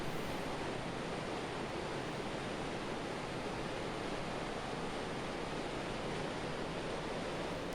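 The Provo River rushes at high spring flow, a steady, dense roar of churning water filling the scene without pause, close and loud, with no voices.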